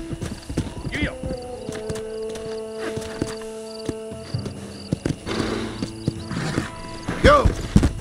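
Horse hooves clip-clop at a steady gallop in the Western video game Red Dead Redemption, mixed with whinnies and rattling tack, while characters talk over the ride.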